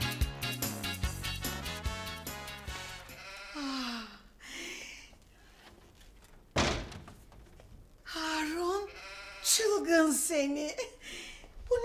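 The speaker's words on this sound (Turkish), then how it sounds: "Yatak odamızda bir koyun var ya." A sheep bleats indoors in a bedroom in a Turkish TV drama scene, with several wavering bleats mixed with people talking, a sharp thunk like a door partway through, and more bleating at the end.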